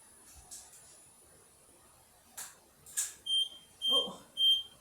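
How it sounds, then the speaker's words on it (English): A device gives three short, evenly spaced electronic beeps near the end, after a quiet stretch with faint background noises. "that's still beeping because it's not in"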